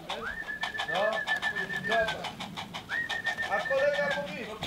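Older racing pigeons coo in a loft, repeated rising and falling calls close by, with background noise and some voices murmuring underneath.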